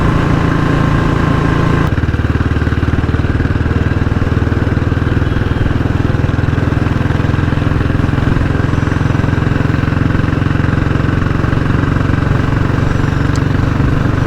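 A motorcycle on a weekend ride along a six-lane road in Haryana produces a loud, steady engine drone with a deep rumble and continuous wind roar, close and unbroken throughout.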